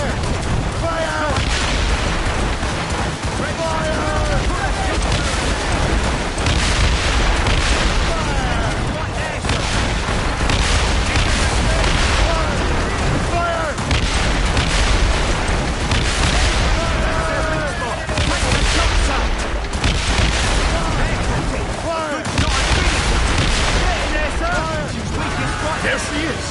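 Ship cannons fire in Assassin's Creed Rogue naval combat, a dense stretch of booming broadside shots over loud sea and battle noise, with shouted voices mixed in throughout.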